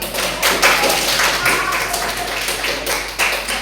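A classroom group claps together in a dense, sustained burst of applause that stays loud throughout, with faint voices mixed in.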